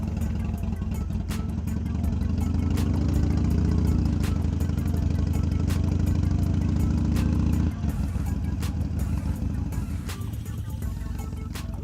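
A Harley-Davidson Iron 883 motorcycle on the interstate gives a steady, loud engine drone under heavy wind rush, easing slightly near the end.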